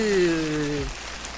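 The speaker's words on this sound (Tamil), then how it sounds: "குளிருது, மழை பெய்யுது" Rain falling in the hills around Kodaikanal makes a steady, close hiss throughout, with a brief falling tonal sound at the start before the rain continues alone.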